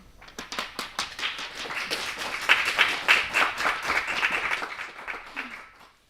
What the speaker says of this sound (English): A loud applause for them.